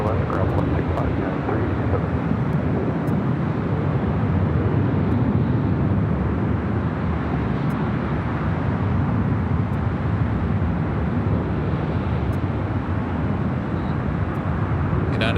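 A steady, broad roar from an aircraft taking off on runway 25 right at LAX airport in Los Angeles, constant and somewhat distant with wind buffeting the microphone, and faint radio voices and ticks underneath.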